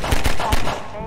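Half-Life 2 gunfire: three quick, punchy shots in an uneven rhythm, close and loud over low game ambience, with a voice faintly underneath.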